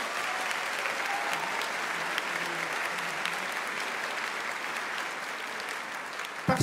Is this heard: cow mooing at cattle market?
no